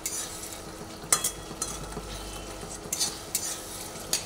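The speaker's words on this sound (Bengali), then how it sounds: "এইভাবে 2-3 মিনিট আমি আবার একটু নাড়াচাড়া করে নেব।" Okra curry with sesame, diluted with water, is stirred in a pan over a low sizzle, with a few scattered scrapes and clinks of a utensil against the metal.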